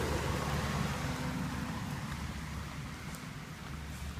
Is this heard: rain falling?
yes